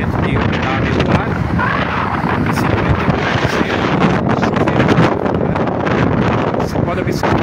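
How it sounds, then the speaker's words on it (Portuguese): Strong gusting wind buffets the microphone during a late-afternoon storm in Santa Bárbara d'Oeste, a loud, continuous broadband roar with rumbling gust peaks throughout. "o vento está muito forte"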